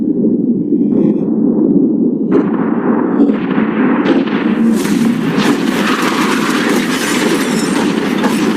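A yacht blown up with explosives gives a loud, sustained roar with a series of stepped blasts and crackling bursts that build in intensity and keep rumbling steadily throughout, with no one talking.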